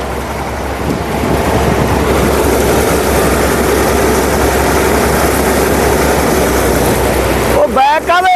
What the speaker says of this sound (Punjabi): ਚਲਾਤੀ ਸਰੋਂ ਆਪਾਂ ਸਰੋਂ ਤੇ ਮਸ਼ੀਨ ਚਾਲੂ ਆ